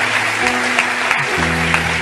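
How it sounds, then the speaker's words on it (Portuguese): Church congregation applauding at an evening service, a loud, steady wash of clapping filling the room for about two seconds with a low musical or organ hum underneath. "Vamos aplaudir a Jesus por esse livramento"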